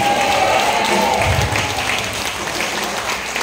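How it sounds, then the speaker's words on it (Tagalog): A church congregation applauds, a broad wash of clapping that holds fairly loud and steady and then eases slightly, with no voices standing out. "Yung mga nahuli, hindi na nahihiyang pumalakpak yan ang malakas."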